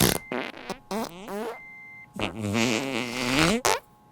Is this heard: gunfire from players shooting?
no